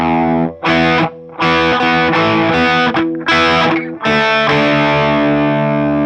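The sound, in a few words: distorted electric guitar riff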